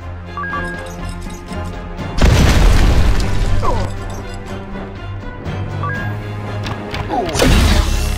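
A bomb in the video game Heroes of Loot 2 explodes in two loud, booming crashes several seconds apart, each with a rumbling tail, over game music and sound effects.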